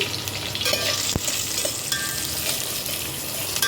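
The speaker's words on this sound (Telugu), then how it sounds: "వీటిని బ్రౌన్ కలర్లో ఫ్రై చేసుకోవాలండి" Chopped onion and green chillies fry in hot oil with spices, a steady sizzle with occasional stirring scrapes and one sharp click, close and even throughout with no talking.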